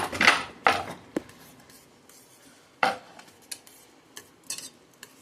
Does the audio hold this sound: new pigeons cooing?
no